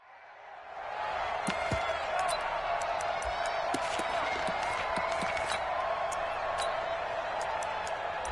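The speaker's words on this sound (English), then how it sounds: "Listen to this crowd now." A stadium crowd in a PS4 football video game roars in a steady, dense wash of cheering, with scattered sharp claps and thuds running through it. Commentary can be heard faintly beneath the noise.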